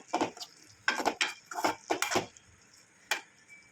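A spoon scrapes and knocks against a pot while tuna fish gravy is stirred, giving several close clattering strokes in uneven bursts followed by a single sharp clink.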